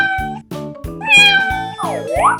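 Cartoon cat meowing in a 3D animal slide video game, several short, bright, tonal meows in quick succession over a repeating pulsing game music loop.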